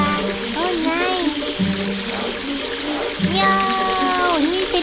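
Cartoon water gushing from a garden hose, a continuous bright spray with bubbly, warbling tones and a few swells, heard over a lively animated soundtrack.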